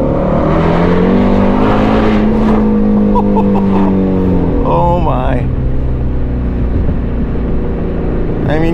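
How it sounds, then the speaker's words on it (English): A Ford Shelby GT350R engine revs loudly inside a tunnel, with booming echoes and a rising, falling howl that sweeps up and down through several bursts. A man exclaims briefly over the roar. "you buy a 350R just for the engine and that sound alone"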